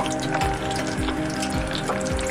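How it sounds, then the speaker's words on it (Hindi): Chicken poppers frying in hot oil, dropped in one by one, give a steady, dense sizzle throughout, with faint clinks at regular intervals. "अब इसको करते हैं फ्राई"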